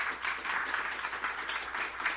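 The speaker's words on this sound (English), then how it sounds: "Round of applause for our panel" An audience at a business succession and investment event applauds the panel, a steady, moderately loud patter of many hands clapping together with no voices over it.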